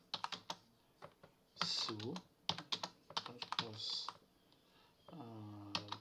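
A command is typed on a computer keyboard on Ubuntu in quick bursts of crisp, close key clicks, mixed with a man's speech.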